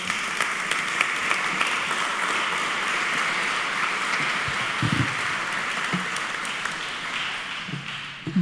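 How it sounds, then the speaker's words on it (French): Audience applause at a closing ceremony fills a hall to welcome Charlotte Casiraghi, a steady, sustained clapping from many hands with a few low thumps, fading slightly near the end. "Sous vos applaudissements."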